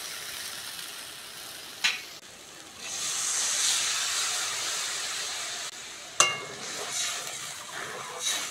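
Water poured onto hot, frying masala for a tuna fish curry bursts into a loud, close hiss and sizzle that swells and holds for several seconds, with sharp clinks of a utensil against the pan at the start and near the end.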